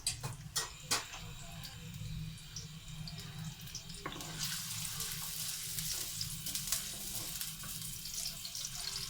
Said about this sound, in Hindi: प्याज को हमने लाइट ब्राउन करना है